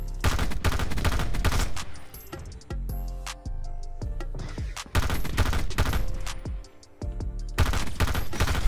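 Rapid bursts of M16 rifle fire in a video game, loud and close, coming in several rattling volleys separated by short gaps over game sound effects.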